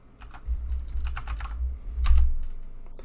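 Fast bursts of typing on a computer keyboard during Ubuntu server setup, quick close clicks in short clusters with a brief pause, a quiet room and no voices.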